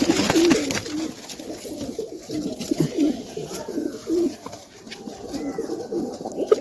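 Madrasi pigeons cooing, a steady run of low throaty coos close by, with light rustling and no talk.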